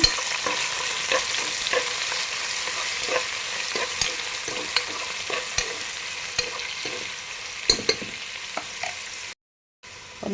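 Onions and curry leaves frying for a cauliflower palya, a steady close sizzle in hot oil with repeated scraping stirs of a spoon against the pan, running alone before a brief cut to silence near the end.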